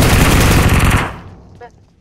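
Rapid automatic gunfire in the mobile battle royale game BGMI, a loud dense burst lasting about a second before cutting off into faint trailing noise.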